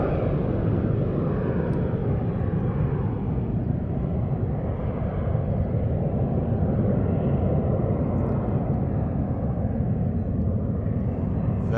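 An airliner passing at Manchester Airport, a steady low rumbling jet roar that holds evenly throughout, close and fairly loud, with no talk.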